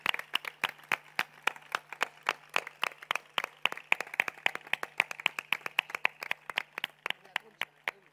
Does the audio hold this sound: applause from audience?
yes